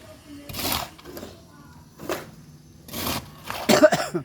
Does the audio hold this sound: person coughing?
yes